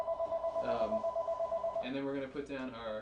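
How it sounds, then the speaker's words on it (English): A telephone rings in a guitar school in New York City, its steady pulsing electronic tone repeating under a voice as he talks through a guitar lesson. "That's the phone ringing here at New York City Guitar School."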